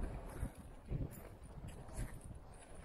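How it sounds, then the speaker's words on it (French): Wind blows across the summit of Pyramide Vincent, a 4215 m peak in the Monte Rosa massif, as a steady low rumble with gusts buffeting the microphone and no one talking. "Ça souffle, hein? Il y a un peu du vent."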